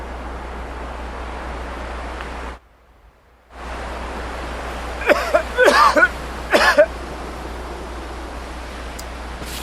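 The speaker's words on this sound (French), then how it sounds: "Il a une toux en fait persistante." Several persistent coughs from an injured patient in a paramedic simulator game, heard as three close, harsh bursts over steady hiss after a brief silent gap.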